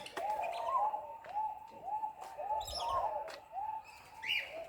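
Birds calling repeatedly in a marsupial park in Tamworth, a series of cooing, dove-like notes with occasional higher chirps, moderately near and steady over quiet outdoor background.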